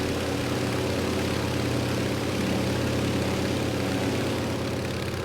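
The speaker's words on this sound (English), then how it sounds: "Beautiful Antonov 2 we're flying today." Antonov An-2 biplane radial engine in Microsoft Flight Simulator, a loud, steady, low propeller drone held constant throughout without any talk.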